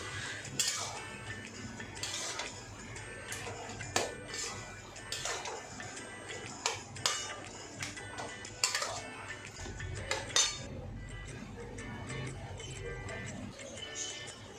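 Taro greens cooked with coconut and chickpeas are stirred in a pan, with a spoon clinking and scraping against the metal in repeated irregular strokes, close and moderately loud, over a low steady background.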